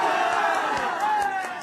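A large political rally crowd in India gives a sustained loud roar of shouting, with rhythmic bursts rising above the dense mass of voices.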